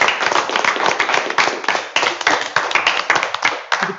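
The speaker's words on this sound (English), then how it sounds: "give a final applause for the people who are in this room" A small room full of people clapping at the close of a presentation session, sharp, close handclaps in a brisk uneven patter that continues for several seconds.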